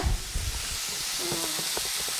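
Lemon goes into chicken and onions frying in a pan, giving a close, steady sizzle and hiss after a few soft knocks at the start.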